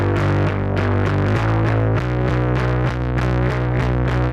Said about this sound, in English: Whenever you like go crazy distortion on bass, it sort of loses a bit of the subness.